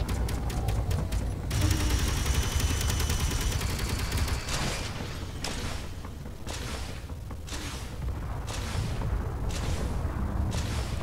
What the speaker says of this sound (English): they're just shooting us with their turrets